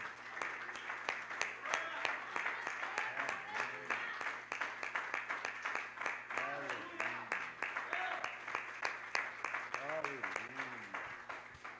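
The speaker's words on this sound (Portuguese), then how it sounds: "Vamos aplaudir Jesus," A church congregation applauding in worship, crisp individual claps ringing out over sustained singing or raised voices, with the clapping steady and fairly close throughout.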